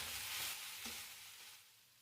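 Lamb mince seasoned with salt and pepper stirred in a skillet, a soft continuous sizzle with a couple of faint scraping strokes, quiet and close with no talking.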